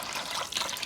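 Water is poured into a pot of mala hot-pot base for a beef-tripe hot pot, making a short, soft, continuous splashing trickle up close.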